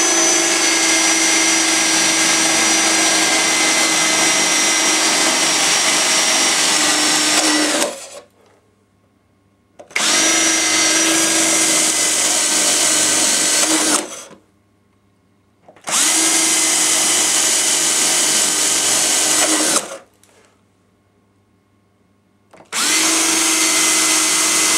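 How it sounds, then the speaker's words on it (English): A power drill bores holes in an N gauge model railway baseboard in four loud, sustained whirring bursts, each several seconds long, separated by brief silences. "I've drilled 4 holes in there for the simple reason so as I can fit the blade in with my jigsaw."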